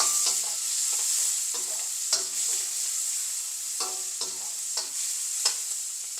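Green chilies, onion and ginger-garlic paste frying in hot oil for a brinjal kaliya curry, a steady soft sizzle with several clinks and scrapes of a spoon stirring the pan.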